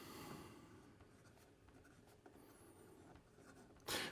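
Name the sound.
writing with Leonardo Momento Magico Emerald fountain pen, steel nib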